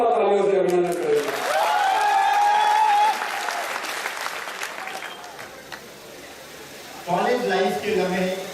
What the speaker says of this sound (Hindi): पूरा सदन हाथ उठा के जोरदार तालियों से अभिनंदन करेंगे।